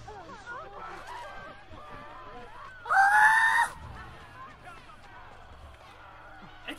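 Ezio, the Renaissance assassin of Assassin's Creed Brotherhood, lets out a short, loud game scream of under a second, standing out above background game sound and talk.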